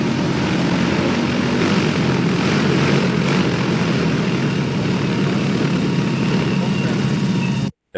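A drone flies steadily overhead and comes down onto a farm trailer, its propellers giving a loud continuous buzzing drone throughout before cutting out abruptly at the end.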